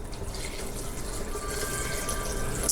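Vegetable broth is poured into a soup pot for butternut squash and roasted red pepper soup, a steady close-up gurgling stream of liquid that runs continuously and grows slightly louder toward the end.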